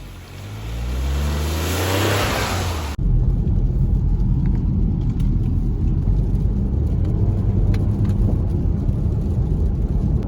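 A 2021 Mini Countryman ALL4 driving on a road, starting with a rising engine rev as it accelerates, then cutting to a steady loud road and tire rumble inside the car.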